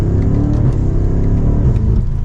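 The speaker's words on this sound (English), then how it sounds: "Those shifts are lightning quick." BMW M5 Competition (F90) engine snarls loudly and close, a deep rumbling drone that rises and then dips sharply at quick gear shifts, alone without talking.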